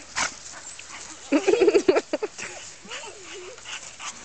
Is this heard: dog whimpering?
yes